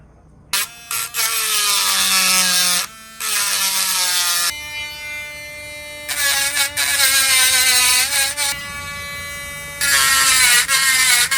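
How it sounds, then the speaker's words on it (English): A grinder cuts down the pin heads on a broken vintage knife handle, a loud, close, high-pitched whine that runs in long sustained bursts, its pitch shifting as it bites, with brief pauses between passes. "grind these heads down on this pin and take it apart"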